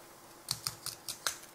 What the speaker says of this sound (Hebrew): עכשיו לסגור את הסכין, אוקיי?